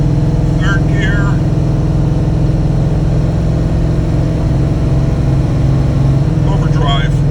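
A carbureted car with an AOD automatic transmission drives off, its engine a loud, steady drone throughout. Any gear changes blend smoothly into the hum, with no distinct shift points.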